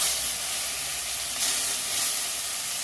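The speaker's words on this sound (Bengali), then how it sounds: "মাছ ভাজা হয়ে গেলে তুলে নিচ্ছি।" Fish frying in hot oil gives a steady, close sizzle and hiss with no talking over it.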